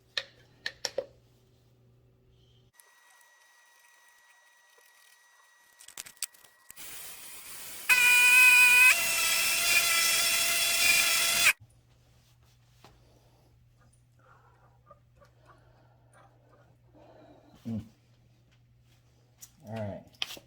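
Yorkshire grit is pressed against a spinning wooden bowl in a short burst of about three and a half seconds of hissy friction, edged with a tonal squeal. Quiet stretches with faint knocks come before and after.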